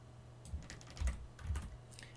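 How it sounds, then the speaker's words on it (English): Quiet, close keyboard typing as a command is entered into a computer terminal, a few soft clustered key presses over a low steady hum, with no talk. "we will open a terminal and we will type."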